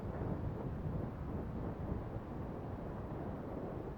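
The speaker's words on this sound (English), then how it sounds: "Kind of windy out here today. I'd say at least 15-mile-an-hour winds or more." Strong gusting wind buffets the microphone outdoors at a model aircraft flying field, a steady low roar filling the clip with no voices.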